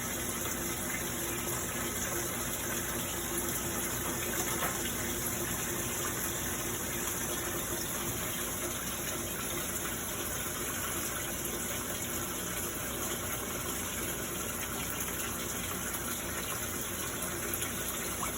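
Water rushing steadily into a washing machine drum during a fill cycle on a machine with an overflow fault, a constant gushing hiss with no pauses and a faint hum, alone without talk.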